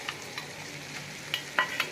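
Soft sizzling as shrimp paste is added to a pan of fried onion and tomato, with a few light clicks and taps, low and steady throughout, no voices.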